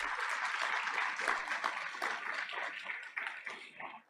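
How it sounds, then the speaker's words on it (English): An audience applauds at a Board of Education meeting, a dense, sustained burst of many hands clapping that holds steady and then tapers off near the end. "So let's give him a round of applause."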